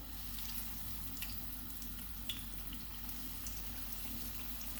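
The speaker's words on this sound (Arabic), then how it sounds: "دوك نحطها نقليهن" Chicken and cheese croquettes frying in hot oil, a steady low sizzle and bubbling with a few faint pops, quiet and even throughout.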